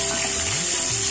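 Fish are added to hot oil already frying cumin seeds, garlic and dried chili, giving a loud, steady sizzle that carries on throughout, with no talking.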